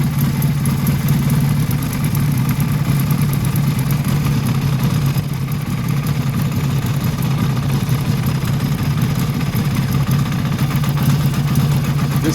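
A small engine with a lean air/fuel mixture idles roughly with only the right cylinder firing, a steady low uneven throb that runs on continuously, close and fairly loud with no talking.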